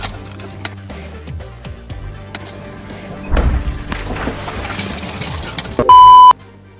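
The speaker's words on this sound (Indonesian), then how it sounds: "nutup pintu mobil aja sampai pecah kacanya" A car door slams hard and its window glass shatters in a sharp burst, followed by tinkling debris, with a loud electronic beep tone near the end.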